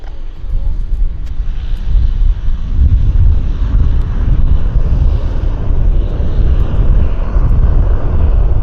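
Heavy aircraft at Vancouver Airport: a deep, continuous rumble of jet engines at a distance, steady and loud, with wind buffeting the microphone throughout.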